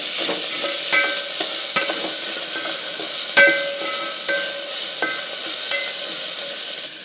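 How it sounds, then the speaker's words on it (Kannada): Ingredients for jeera rice fry in a pan with a steady bright sizzle, broken by sharp spoon taps and scrapes every second or so. "ಈ ಥರ ಫ್ರೈ ಮಾಡ್ಕೊಳ್ಳಿ."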